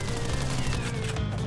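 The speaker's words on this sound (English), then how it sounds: "Him and that Thompson machine gun. Tommy gun with a barrel clip." Sustained rapid Thompson submachine gun fire, a Tommy gun with a drum magazine, in the Crash Bandicoot video game, a dense continuous burst filling the whole moment at steady loudness.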